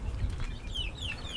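Bantam chickens cluck close by in a short burst of soft, repeated calls, with higher chick peeps over a steady low background.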